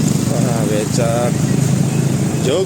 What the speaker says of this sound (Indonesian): Tapi becaknya sekarang udah banyak pakai motor.